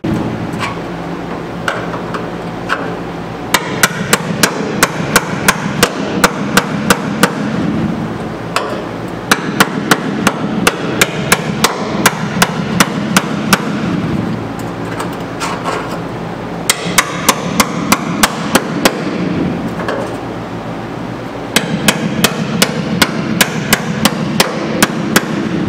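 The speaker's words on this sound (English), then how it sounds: "Now we're using our famous chisel I got for Christmas one year in the 90s to separate the panel." A hammer strikes a chisel to separate a steel body panel on a 1964 Ford Falcon. The sharp metallic blows come in rapid clusters of a dozen or so, repeating several times over a low background hum.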